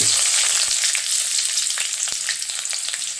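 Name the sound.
shallots frying in oil for sambar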